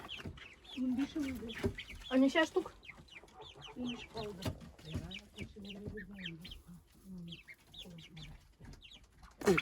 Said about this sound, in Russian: Цыплята.